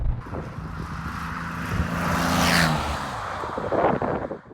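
DeLorean car being driven, heard from inside: a moderately loud engine drone that climbs in pitch as it accelerates, with wind rush over it and no talking.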